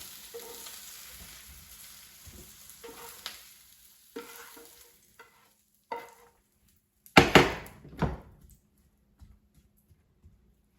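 Sautéed bell peppers and onions are scraped from a frying pan onto a plate with a faint sizzle, scattered clinks and scrapes, and a loud burst of scraping midway.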